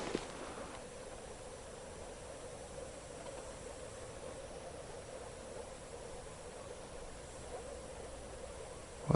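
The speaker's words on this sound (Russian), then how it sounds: "Лягушки только квакают." Hundreds of frogs croak in a marsh on a spring evening duck hunt, blending into a steady, distant, faint chorus that drones on without a break.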